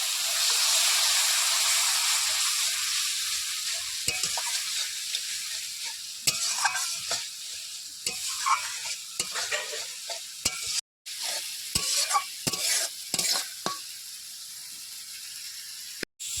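Spice paste frying and being stirred in a pan for a spiced fish curry, a bright hiss fading over time while a utensil scrapes and taps in sharp bursts, with a brief dropout midway.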